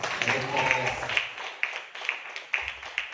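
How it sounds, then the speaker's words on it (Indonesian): A small audience claps at an Indonesian marketing-plan training presentation, a moderate patter fading into a few sparse, distinct claps, with a speaking voice audible at the start. "Tepuk tangan dong."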